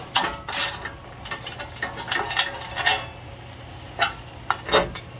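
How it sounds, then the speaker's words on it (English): A ratchet wrench clicks in quick close bursts while loosening the bolt that holds the alternator on a diesel Kawasaki Mule 3010/4010 utility vehicle, the metallic ticks coming in several short runs separated by brief pauses. "we have to take the bolt loose that holds the alternator tight so we can remove this shroud"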